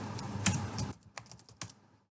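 Quick keystrokes clatter on a computer keyboard, a dense burst of typing followed by a few separate taps before falling silent.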